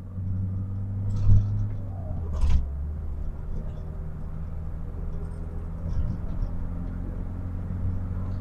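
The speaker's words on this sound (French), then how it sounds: "On écoute l'allonge du véhicule." A Peugeot 205 pulling in third gear, its engine a steady low rumble that builds gradually over several seconds, heard from inside the car with a couple of brief knocks.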